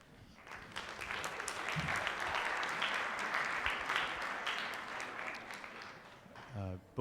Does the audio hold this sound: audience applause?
yes